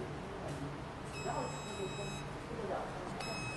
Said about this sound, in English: You will sound the alarm on the inverter.